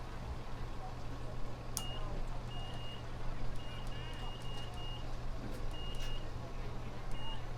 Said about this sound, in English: That beeping that you hear occasionally is the resetting of our timer for our scoreboard.